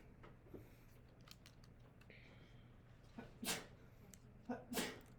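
A sneeze bursts out twice in close succession near the end, preceded by a faint sniff, against a quiet indoor room background during an online chemistry lesson.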